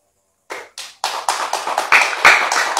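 Men in an audience at a PSHT religious talk clap hands in a series of sharp, close bursts that start after a short silence and build into steadier, louder clapping.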